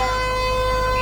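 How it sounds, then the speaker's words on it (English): Siren at an Australian football ground sounding the end of the first quarter in a NEAFL match between Eastlake Demons and Sydney Hills Eagles, a loud, steady sustained tone held throughout without talk. "I believe that was the siren here to end the first quarter."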